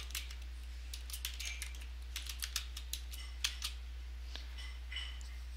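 Typing a file name on a computer keyboard while saving a screenshot: a rapid, uneven series of crisp, close key clicks, fairly quiet over a steady low electrical hum, with no talking.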